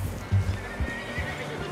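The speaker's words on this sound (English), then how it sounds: "you can rear the horse." A horse rears and whinnies in Red Dead Redemption 2, a short close neigh over a few thudding hoof clops, with a low rider's voice briefly audible.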